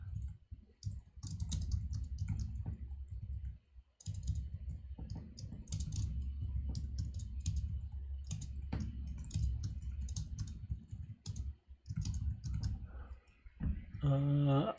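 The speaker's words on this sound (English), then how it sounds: "This is just me banging on the keyboard." Computer keyboard typing, a rapid clatter of irregular key clicks and bursts of banging, close and steady with brief pauses, and a voice heard at the end.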